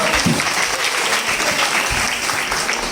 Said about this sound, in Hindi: तालियां होनी चाहिए हमारे गाने के लिए।